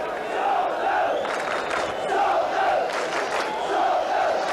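Football crowd of 35,000 at White Hart Lane for Spurs against Leeds United, a sustained loud roar and chanting that swells in waves throughout, dense and continuous.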